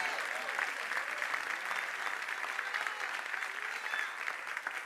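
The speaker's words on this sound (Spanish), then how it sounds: "Alguém aplauda a Deus." A church congregation applauds to God during a sermon, a steady wash of clapping at moderate distance that holds evenly throughout, with faint voices mixed underneath.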